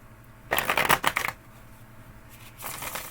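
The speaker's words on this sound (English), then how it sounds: "I'll shuffle it again." Tarot cards being shuffled close by: a quick riffling burst, a pause, then a softer second shuffle starting near the end.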